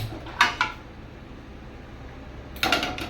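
An iron griddle pan is set down on a gas stove, making two short metallic clanks at the start and another clatter near the end, with quiet room noise between.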